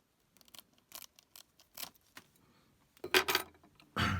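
Scissors cutting about two inches of body tubing at a fly-tying bench: several light snips and clicks spaced irregularly, then a louder crunchy cut and handling rustle near the end, close and quiet.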